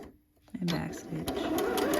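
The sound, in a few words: sewing machine back stitching a seam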